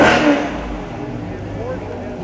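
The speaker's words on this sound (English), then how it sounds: "Don't you like the sound of the exhaust?" A car engine revving with a throaty exhaust note, a quick rising rev at the start that settles into a steady idle rumble, close up, with a voice talking over it.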